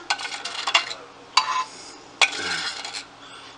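A utensil scrapes soup from a metal can in a home kitchen during Christmas dinner cooking: a few separate scraping strokes, close and moderately loud, with short pauses between them.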